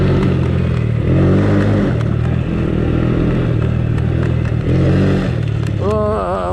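A Honda Fourtrax ATV that sat unused for years runs close by with an uneven, clattering engine note, revving and settling repeatedly, with a brief squealing whine near the end.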